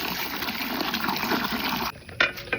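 Water churns and gushes steadily as salt is stirred in while washing fish, then cuts off into a few faint splashes.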